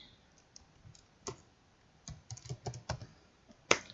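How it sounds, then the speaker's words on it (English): Typing on a computer keyboard, heard alone as scattered clusters of keystroke clicks. Some single taps and some quick bursts, with a sharp loud strike near the end. "so in there we are typing be prepared"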